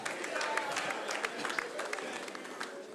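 A comedy show crowd applauds steadily with dense crackling claps while a comedian keeps speaking over the noise.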